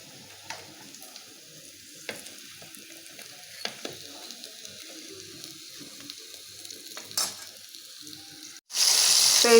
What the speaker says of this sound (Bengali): আমরা বিকালে নাস্তা করার জন্য চিকেন ফ্রাই ভেজে নিচ্ছি।